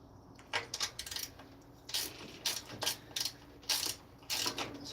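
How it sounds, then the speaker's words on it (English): Ratchet spanner turning a 13mm bolt on a Honda water pump, giving several short bursts of close, quiet metallic clicking separated by brief pauses. "It is 13mm with a ratchet spanner, and then it's 12mm underneath."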